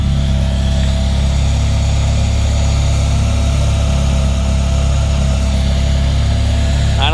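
A Honda K20 engine idles steadily in an EG Civic race car, a loud, continuous low rumble close by with no break through the whole stretch and no talk over it.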